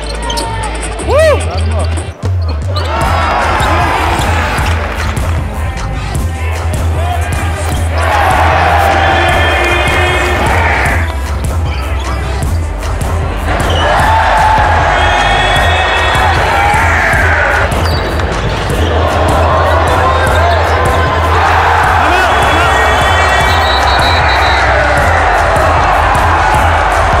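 A high school basketball crowd cheers in loud waves that rise and fall over the echoing gym, with balls bouncing and people talking through it.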